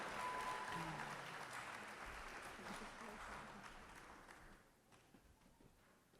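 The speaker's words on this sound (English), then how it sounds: "give the Total Praise Ensemble another big round of applause" Sustained audience applause at a university president's fall convocation, a dense wash of clapping that slowly fades toward the end, with a voice talking over it.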